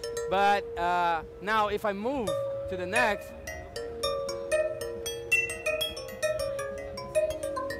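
Chromaphone physical-modeling synth percussion played from single keys, giving bell-like metallic tones that bend and warble, then a run of bright plucked and struck notes, with someone talking over part of it.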